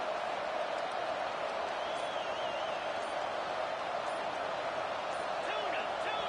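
College football video game stadium crowd, a constant wash of dense fan noise at even volume, with faint whistle-like tones drifting above the steady roar and background voices throughout.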